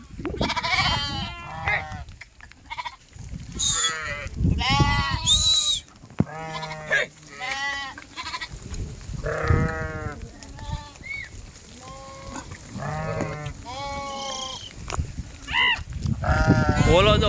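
A mixed flock of sheep and goats bleats on a rainy hillside, many overlapping wavering cries near and far, some loud and close, repeating throughout with almost no pause.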